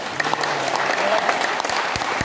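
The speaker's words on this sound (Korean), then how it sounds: "주님 앞에 영광의 박수 한번 합시다" Vigorous applause from a congregation at a Korean Christian officers' breakfast worship service, a full, steady burst of many hands clapping together, close and continuous with a few deep thumps near the end.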